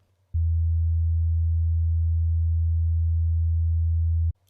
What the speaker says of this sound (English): Finally, a sine wave.